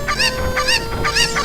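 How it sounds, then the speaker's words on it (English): A cucco chicken in The Legend of Zelda: Ocarina of Time gives three loud, close, squawking honk-like clucks in quick succession, each rising and wavering, with no other sound around them. "the cuckoos make that stupid sound and jump up and down for a little while before they run off"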